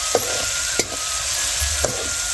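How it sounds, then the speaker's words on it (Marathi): Onion-style sauté with turmeric in a pan: continuous sizzling frying hiss with a few sharp scrapes of a spoon stirring, close and steady, no talking. "थोडी हळद टाकते. आता परतू घेते"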